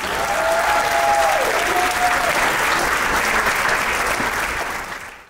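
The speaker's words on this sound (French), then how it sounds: "Applaudissez pour Henriette, s'il vous plaît" Loud, sustained applause from a gala benefit audience, a thick continuous roar of clapping that fades near the end, with a brief tonal sound or voice passing over it early on.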